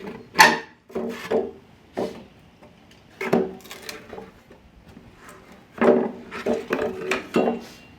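Pallet boards being pried apart with a pallet breaker tool, several separate creaks and sharp wooden cracks as nails pull free, with quiet gaps between.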